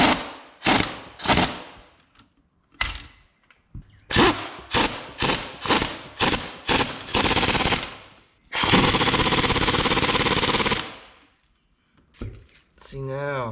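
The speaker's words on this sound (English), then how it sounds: "I'm going to compress the spring while it's still on here with this old spring compressor tool I got from AutoZone" An old AutoZone spring compressor working on a car coil spring during a Subaru Legacy strut replacement: a series of loud, rapid ratcheting bursts, each a second or so long, then one longer sustained rattling run, all close up with no talking.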